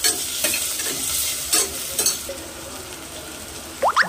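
Potatoes and tomatoes fry in a pan for a Maharashtrian masala rice, giving a steady loud sizzle with scraping strokes of a spoon stirring through them and a few metallic clinks near the end.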